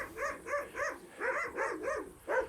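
Several dogs bark repeatedly in a rural Romanian village, Șirnea, a rapid run of sharp, fairly loud barks and yips arriving in uneven bursts, with no talk over them.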